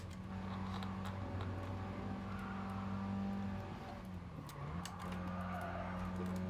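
A Mini Cooper in GT Sport braking hard and sliding sideways, steady engine drone with a pitch dip as the car scrubs and squeals, then the engine note recovering, no talk.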